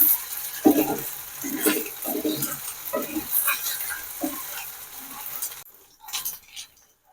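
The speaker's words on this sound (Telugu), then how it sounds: "పచ్చి వాసన పోయేంత వరకు ఫ్రై చేసుకుందాం దీంట్లోని" Ginger garlic paste fries in a pan for chicken liver fry, sizzling close up under repeated scraping stirs, then the sizzle drops away near the end.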